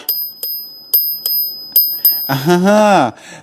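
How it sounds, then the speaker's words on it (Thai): A Cat Eye Nido bicycle bell rings six times in a quick, bright, evenly spaced series. A short voiced sound with a rising and falling pitch follows at the end. "ตัวนี้คือกระดิ่งของแคทไอนะครับ รุ่นนิโด"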